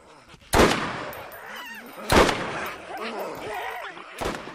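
Gunfire in the video game Borderlands: three loud, sharp shots spaced about two seconds apart, each ringing out briefly, with a voice talking between them.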